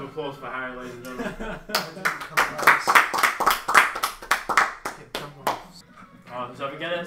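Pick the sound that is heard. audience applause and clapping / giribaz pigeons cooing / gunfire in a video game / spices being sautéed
audience applause and clapping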